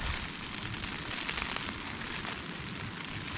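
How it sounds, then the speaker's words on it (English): Rain drumming on a tent during an Easter weekend hike on the Cumbria Way, a dense, even patter heard from inside, steady and moderately loud with no voices. "Rain's come in."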